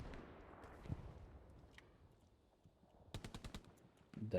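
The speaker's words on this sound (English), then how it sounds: "There's a machine gunner near my position." In the war video game Hell Let Loose, a quick burst of machine gun fire crackles in rapid, evenly spaced shots at moderate distance after earlier scattered bangs and rumbling battlefield ambience.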